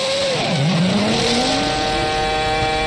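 2003 Formula 1 car engine at the Hungarian Grand Prix in the pits after running out of fuel, a loud whine that dips low, then climbs steadily in pitch, over a constant high background roar.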